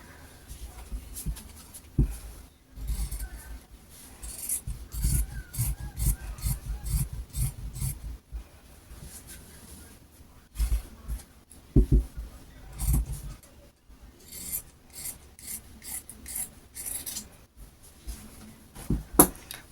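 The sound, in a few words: cutting churidar fabric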